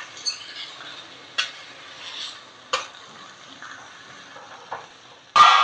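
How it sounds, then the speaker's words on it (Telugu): Tomatoes frying in a pan, stirred now and then: a faint, soft sizzle under a few sharp spoon taps against the pan, ending in a louder burst of scraping. "ఈ టమాటా బాగా మగ్గే వరకు వేయించుకోవాలి"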